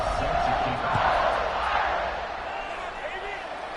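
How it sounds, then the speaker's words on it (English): Steady roar of a stadium crowd in a college football video game before a fourth-quarter kickoff, a broad constant wash of noise that swells slightly and then eases, with no speech. "this crowd now ready to get behind them"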